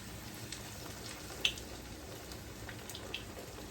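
A flounder fillet sizzling skin down in hot grease outdoors, a faint steady fry hiss with a couple of small pops and crackles.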